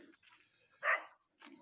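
A hunting hound in a village gives a single clear bark amid quiet surroundings, faint and somewhat distant.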